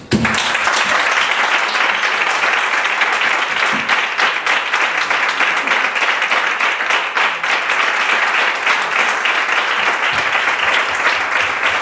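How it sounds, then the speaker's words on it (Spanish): A large audience applauds at an international flamenco guitar gathering honouring Paco de Lucía, loud, dense clapping sustained evenly for about twelve seconds without talk. "a partir de ahora a ustedes les corresponde, para ellos, los aplausos."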